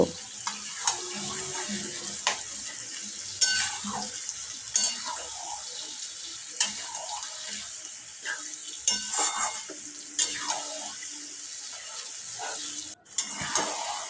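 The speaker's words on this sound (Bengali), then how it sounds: "মিডিয়াম টু লো আছে প্রায় কুড়ি মিনিট মতো কষিয়ে নেব" Marinated mutton curry is sautéed in a pan over medium-low heat, a low bubbling sizzle under repeated scrapes and clanks of a spoon stirring against the metal, close and fairly quiet.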